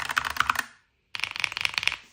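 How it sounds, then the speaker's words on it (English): Rapid typing on Razer and EpoMaker mechanical keyboards, close and crisp, in two bursts of dense keystrokes split by a brief silent pause. "let's just do a typing test"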